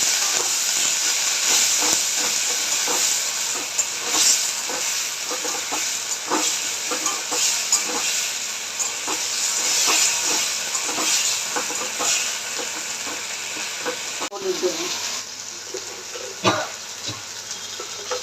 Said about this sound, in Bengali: বাকিটা দিয়ে সামান্য একটু জল দেবো মশলাটা কষাবার জন্য